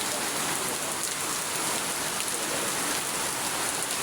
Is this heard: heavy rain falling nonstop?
yes